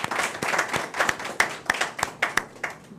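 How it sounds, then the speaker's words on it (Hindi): Audience at a Hindi kavi sammelan poetry gathering clapping enthusiastically, a dense burst of hand claps with a few sharper individual claps standing out, close and loud. "जोरदार तालियों से अभिनंदन करें।"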